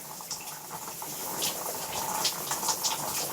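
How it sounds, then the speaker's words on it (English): A shower runs steadily with a broadband hiss of falling water, continuous and moderately close, with no talk over it. "You hear a shower on"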